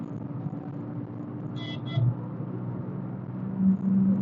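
The petrol engine of a 2016 Datsun Redi-Go small car rumbles steadily up close, with a brief high tone midway and a short surge in revs near the end.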